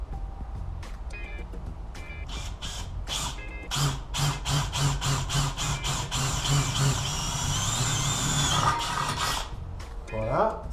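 Cordless drill in second gear boring through thin hollow aluminium scrap, a steady whirring motor punctuated by rapid repeated bursts of grinding as the bit bites, close and fairly loud with no talking.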